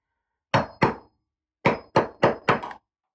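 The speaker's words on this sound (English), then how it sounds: "put the flat side of the chisel next to the tile" Hammer blows on a chisel set flat against bathroom tile during demolition: six sharp, loud strikes, two close together, a pause, then four in quick succession, with no talking.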